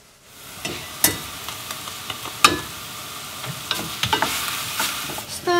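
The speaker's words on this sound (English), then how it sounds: "Stir this around 2 or 3 minutes until this rice is also half translucent." Rice stirred together with frying onion in a hot pan for a beef and vegetable porridge, giving a steady close sizzle broken by repeated scraping clicks of the spoon, with no voices.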